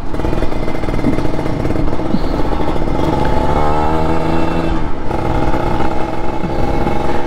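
Kawasaki Ninja RR two-stroke motorcycle with a VM28 carburetor and open filter, revving loudly and continuously at close range, the engine note rising and falling with throttle blips and a raspy, clattering exhaust throughout.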